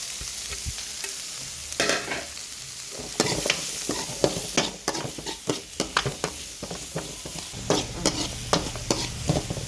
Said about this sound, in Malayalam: അത് തിളച്ച് വരുമ്പോൾ സവാള ഇടുന്നു.